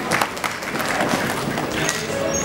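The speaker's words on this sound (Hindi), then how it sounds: "एक जोरदार तालियां।" Audience applause fills a hall at the Dada Saheb Phalke Icon Award ceremony, a dense, continuous wash of many hands clapping at steady loudness throughout.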